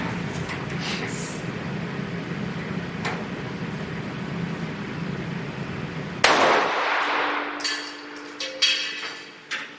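A gunshot fired at clothing materials strapped over a clay backing in ballistics testing: one sharp, loud report with a ringing tail partway through, preceded by a steady humming room background.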